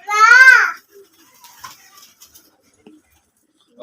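A pigeon gives one loud, close coo from a prized, well-fed flock, followed by faint scattered rustles and small sounds.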